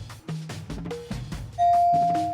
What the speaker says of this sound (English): And that is the bell ending the round.